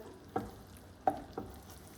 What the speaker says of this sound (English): we're stirring it in. It's very bubbly.